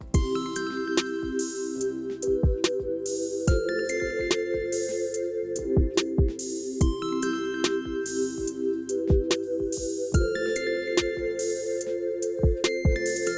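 Drum beat programmed on a PreSonus ATOM pad controller in Studio One, with closed hi-hat and added rolls: a steady looping pattern of punchy kicks and snares under sustained synth tones, even and continuous.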